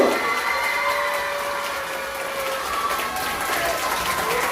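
Children at an elementary church service clap loudly and steadily for a newly introduced teacher, a dense sustained wash of applause throughout with a few voices faintly underneath.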